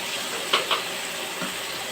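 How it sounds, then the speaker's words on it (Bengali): Potato pieces fry quietly in hot oil with salt and turmeric in a pan, a faint steady sizzle with a couple of brief brighter crackles. "আলুগুলো একটু ভালো করে ভেজে নেবো।"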